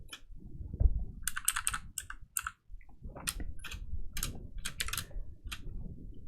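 Computer keyboard typing during a live digital comic drawing session, bursts of quick close key clicks in several clusters with short pauses, over a low background rumble.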